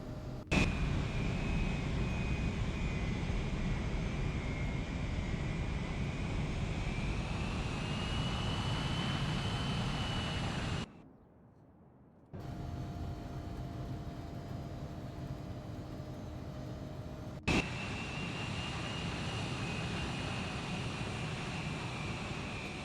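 A Legacy 650 business jet in the X-Plane 12 flight simulator hums with a steady, loud engine whine and airflow drone, which cuts out briefly midway and then resumes as before.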